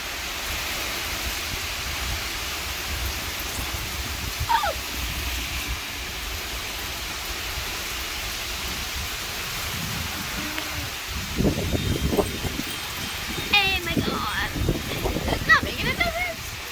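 Heavy rain pours steadily through a severe storm with wind gusting across the microphone, a broad constant wash that swells louder in bursts toward the end.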